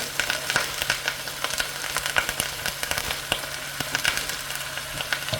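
Frozen steak slices sizzle and pop steadily in a hot pan for a Philly cheesesteak, with a dense continuous frying hiss and frequent sharp crackles, close and alone without talk.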